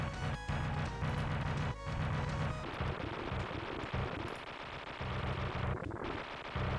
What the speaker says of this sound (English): There you go, the final boss of UN Squadron is destroyed.